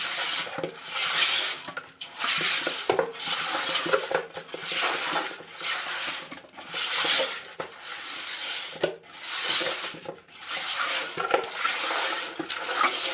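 Cut fish pieces being washed with salt in a bowl by hand, a steady rhythmic cycle of wet rubbing, sloshing and scraping against the bowl, close and loud, with no talking.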